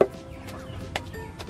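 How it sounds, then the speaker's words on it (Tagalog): Chickens cluck softly in short, scattered bursts at a Filipino home where bananas are pounded for nilupak, set against a low background hum with no one speaking. "ipapakain din po namin yan sa mga manok kasi gusto nila yan"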